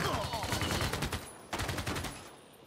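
Rapid bursts of gunfire from a ranged unit attack in the strategy game Civilization VI, two dense volleys of crackling shots with a short gap between them, fairly close and loud, fading out at the end.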